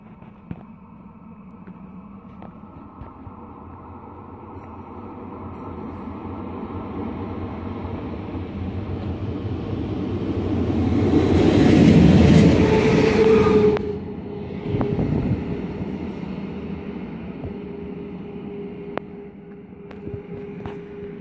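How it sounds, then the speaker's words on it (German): ÖBB class 1144 electric locomotive arriving at Rosenbach station, a light engine move with a class 1116 in tow. A steady rumble builds to a loud, broadband roar near the middle of the clip, then fades with a few metallic squeals. No one speaks. "Zug kommt."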